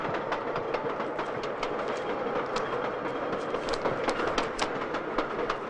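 A train runs steadily on the rails with a continuous rumble and a rapid clatter of wheels, loud and close throughout.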